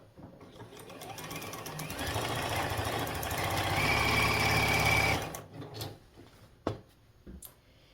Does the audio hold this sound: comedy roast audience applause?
no